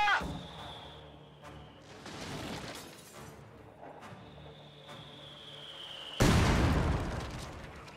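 Mortar fire in a WWII strategy video game, several booming blasts and crackling impacts spaced a second or two apart, the loudest burst near the end, over a faint tonal background hum.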